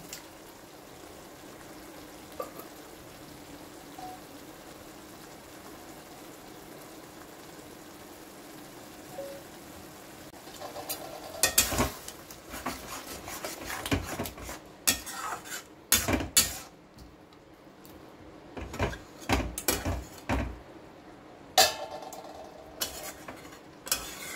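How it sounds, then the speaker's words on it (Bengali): Spice paste with grated tomatoes is stirred and fried in a pan. A faint low hiss opens the clip, then clattering utensil scrapes and knocks against the pan come in bursts in the latter half. "এবার মশলাটাকে একটু ভালো করে কষতে হবে।"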